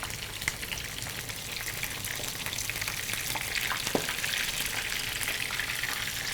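A pitha frying in a pan gives a steady, moderately quiet sizzling hiss that continues unbroken, with a few faint crackles.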